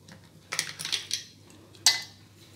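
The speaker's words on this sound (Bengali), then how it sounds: "কয়েকটা আইস কিউব দিয়ে দিলাম" A few ice cubes dropped into grape juice, making two or three crisp clinks and rattles against the glass, with a short sharp final clink; close and moderately loud, with no talking.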